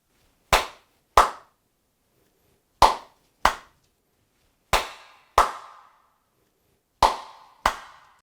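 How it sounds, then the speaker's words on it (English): Eight sharp hand claps in uneven pairs, each with a brief decaying ring, sounding off hard reflective walls and a vinyl or stone floor in an otherwise quiet interior. "you may check the reflection by clapping hands"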